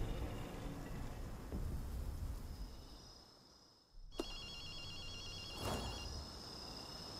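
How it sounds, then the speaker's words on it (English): A telephone rings in the video game Ghostwire: Tokyo: a brief electronic trill comes in over a low ambient rumble, followed by a second ring. "you hear a phone ringing?"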